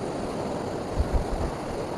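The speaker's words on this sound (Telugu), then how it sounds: "అలల సౌండ్ మంచిగా వినిపిస్తుంది" Sea waves wash onto a calm beach at sunrise in a soft, continuous hiss, with a few low thuds of breaking surf near the middle and no voices.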